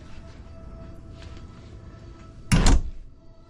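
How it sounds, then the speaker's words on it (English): A sliding door on the starboard side of a Northern Marine 57 pilothouse yacht opens with a brief rolling rumble and thump, short and fairly close, after a few seconds of quiet room tone. "on the starboard side is a sliding door that takes you out to the deck out there"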